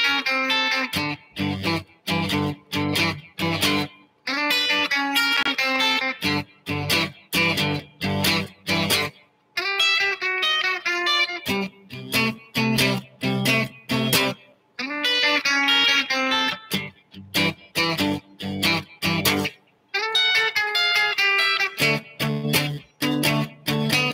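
An electric guitar plays a 12 bar blues in G with a slightly driven tone, strumming rhythmic chord stabs in short bursts separated by brief silences, loud and close.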